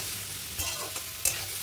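Vegetables and chow mein fry together in a pan with a close, continuous sizzle, a few soft stirring knocks and a brief sharp crackle near the end.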